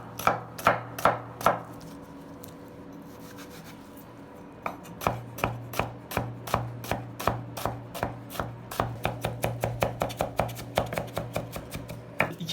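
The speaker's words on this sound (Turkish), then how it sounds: "İki adet soğanı da incecik böyle doğruyoruz" Rapid knife chopping of onions on a cutting board, sharp rhythmic taps in quick bursts with a short pause, close and clear with a faint hum underneath.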